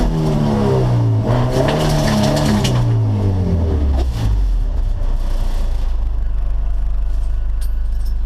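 A B16-engined EF sedan spins out on a mountain road, its engine revving hard and falling in pitch as the tires scrub and squeal, all loud and close with no talk.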